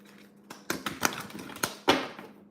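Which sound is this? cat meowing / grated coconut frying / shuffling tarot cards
shuffling tarot cards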